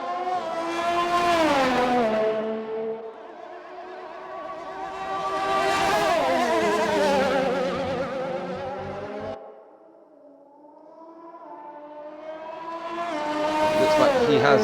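Loud race car engines on a qualifying lap at the Australia round of a racing season, revving up and down through the gears in long sweeping passes, with one sharp lift-off and fade before the engine builds again, heard alone without talk.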